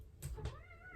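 A house cat meows indoors, two short close calls in quick succession with no talking over them.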